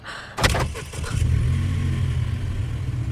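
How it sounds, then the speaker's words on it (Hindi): A car engine cranks and catches with a sharp burst, then settles into a steady low idle rumble, close by and with nobody speaking. "ये गाड़ी कैसे ऑन हो गई?"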